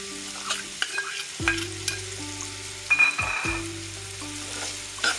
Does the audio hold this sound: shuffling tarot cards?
no